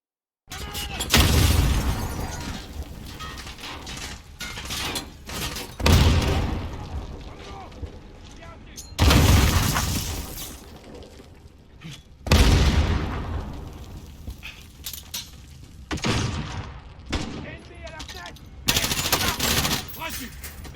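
Machine gun fire from the video game Modern Warfare comes in repeated loud bursts a few seconds apart, with gaps of quieter game ambience between them and voices talking over the action.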